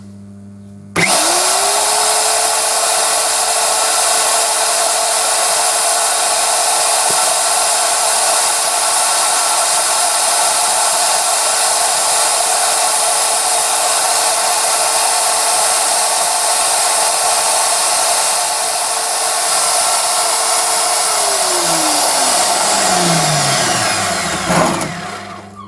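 A power drill bores a 4 to 4.5 mm pilot hole while building a weapon rack, running at a steady loud whine for about twenty seconds before spinning down near the end, with no talk over it.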